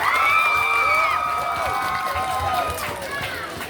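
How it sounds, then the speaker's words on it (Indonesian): An audience at a student BEM UKPM election debate applauds and cheers for candidate pair number 3, with loud clapping, whoops and crowd noise that taper off over a few seconds while voices carry above. "sekali lagi beri tepukan yang meriah untuk paslon nomor urut 3"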